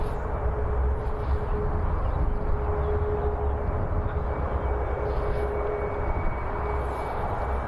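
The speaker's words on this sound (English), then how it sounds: "Departing next, Ryanair to Bucharest." A Ryanair airliner departs Birmingham Airport for Bucharest with a loud, steady jet engine roar that holds throughout.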